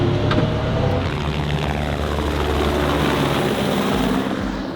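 A helicopter roars loudly nearby, its rotor chop and engine drone continuous and steady throughout.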